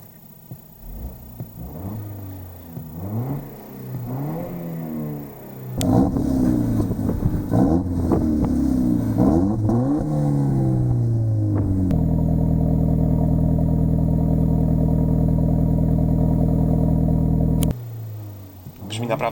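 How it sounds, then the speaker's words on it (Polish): Volvo S60 Polestar with a 2.0-litre inline-four engine revving hard, rising and falling through several pulls, then holding a steady loud drone before cutting off, heard close. "I pomyślcie, że to tylko 2-litrowa rzędowa czwórka."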